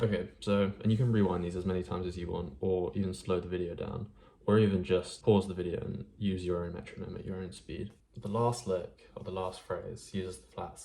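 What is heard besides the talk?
No everyday noise stands out behind the speech.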